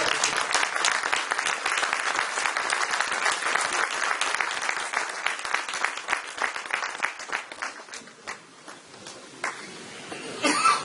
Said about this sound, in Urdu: اس کے لیے ہم سب کھڑے ہو کر اور تالیوں سے استقبال کریں گے